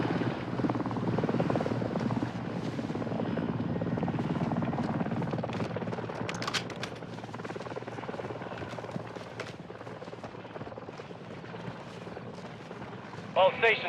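A helicopter's rotor thrum in the video game Call of Duty: Modern Warfare 2 fills the scene, loud and continuous, with scattered clanks and flare bursts layered over the steady drone.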